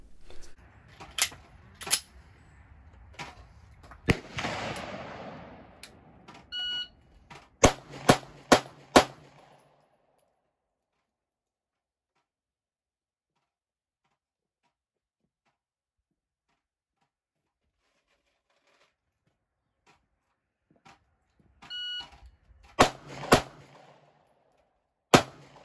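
Shots from a Smith & Wesson M&P Shield handgun, loud sharp cracks fired in quick uneven bursts, then a long silence before a final short cluster of shots.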